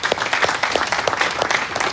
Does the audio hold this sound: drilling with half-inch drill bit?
no